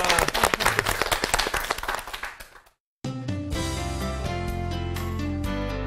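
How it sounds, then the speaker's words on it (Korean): A Bible-class audience breaks into quick, close rhythmic clapping that fades away, then after a short gap a sustained musical passage with steady tones takes over. "여러분 제가 박수를 한번"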